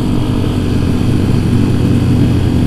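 A Scorpio supermoto motorcycle on a ride, its modified engine a loud, dense, steady roar heard up close with no break.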